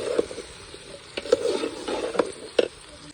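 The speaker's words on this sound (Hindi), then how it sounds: "भिंडी को घी में फ्राई किया है" Okra frying in ghee gives a soft, steady sizzle, with a few sharp scraping stirs of a utensil against the pan at irregular intervals.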